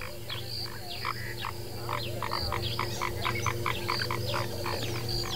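Frogs croak at night in Kruger National Park, South Africa, their regular pulsing calls overlapping in a dense, continuous chorus that carries clearly over a low steady hum, with no voices.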